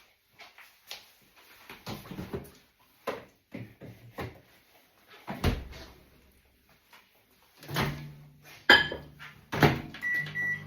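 Microwave oven heating apple pies in a home kitchen, with a run of clunks and door or cupboard knocks, then a steady low hum and a few beeps near the end; no one speaks.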